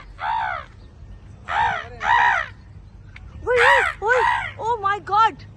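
Several crows caw loudly and close by, harsh repeated calls in short bursts, some single and some in quick pairs, over a quiet outdoor background.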